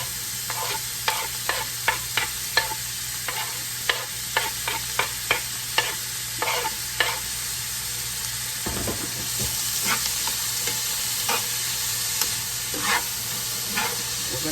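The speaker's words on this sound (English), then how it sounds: "We're going to get this sauteed." Vegetables for cornbread dressing sauté in a pan with a constant close sizzle, while regular scraping taps of a stirring utensil repeat over it, with no voices.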